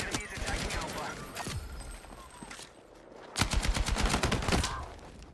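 Rapid gunfire bursts from the game Counter-Strike 2, loud volleys of shots in quick succession with a brief lull midway, then a dense second burst, with a voice talking over the action.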